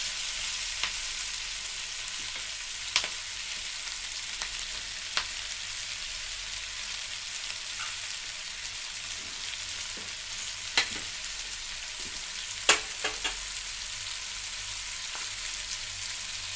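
Chopped capsicum and onion fry in a pan, giving a steady, close broadband sizzle with a few sharp clicks and pops scattered through it, as a spatula scrapes now and then.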